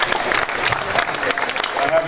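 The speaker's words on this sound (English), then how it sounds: "he sort of deserves a round of applause" A crowd claps through a boxing post-fight press conference, with a continuous patter of applause under someone speaking.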